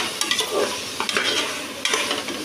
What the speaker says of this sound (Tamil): சிக்கன் போட்டாச்சு. நல்லா கிண்டி விட்டுக்கலாம்.